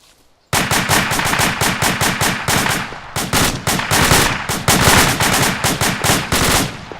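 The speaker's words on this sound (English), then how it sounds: "Team 1, open fire on contact south." Sustained gunfire from a machine gun and rifles on a firing exercise, loud and close, with rapid bursts and overlapping shots running steadily after a brief quiet start.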